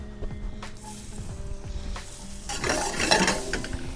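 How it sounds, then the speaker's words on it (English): Brunoise shallots sizzling in the steak au poivre pan, a bright sizzle that swells partway through, with stirring and metallic clinks of utensils against the pan, close up and without talk. "Now I wanna go back into the pan with my brunoise shallot."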